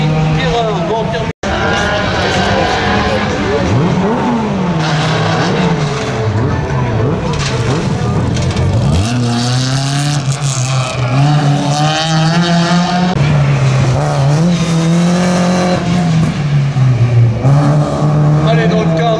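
Race car number 52 drives hard on a slalom course at Saint-Lô, its engine loud and revving up and down with tire squeal through the turns, while a commentator talks over the track noise.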